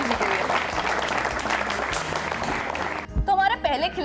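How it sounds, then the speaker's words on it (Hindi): An audience at a Hindi quiz show for farmers gives loud applause for a winning contestant, dense sustained clapping that cuts off near the end as a brief musical sting and voices take over. "एक बार जोरदार ताली हो जाए"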